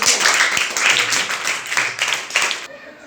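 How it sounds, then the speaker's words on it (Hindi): An audience claps for a quiz winner in a Class 5 maths lesson, a burst of applause running about two and a half seconds before cutting off, with voices mixed in. "बजा दीजिए ताली"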